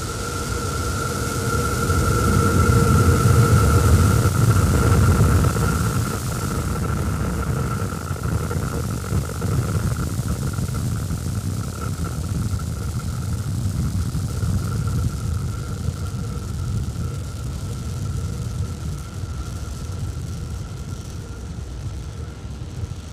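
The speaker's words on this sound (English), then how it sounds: "Starship test vehicle number 11 ascending over Starbase in South Texas." The SpaceX Starship SN11 test vehicle launches from Starbase in South Texas in fog. A distant, broad rocket roar rumbles steadily, strongest early on and slowly fading, with a faint steady tone running through it.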